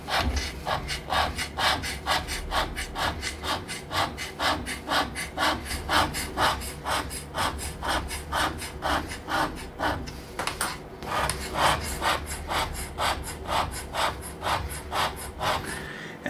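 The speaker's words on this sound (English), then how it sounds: "So we take our scraper with a 60 radius blade and we just go at it." A hand scraper with a 60 radius blade worked across a flat metal surface, producing loud, close, rhythmic rasping strokes in a steady fast series, with a brief pause partway through.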